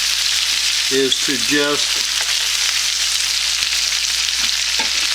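A salmon fillet searing in a hot pan, a loud, steady frying sizzle that fills the whole moment while someone talks briefly over it.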